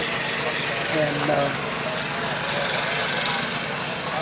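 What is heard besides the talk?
tractor engine running a sawmill via long belt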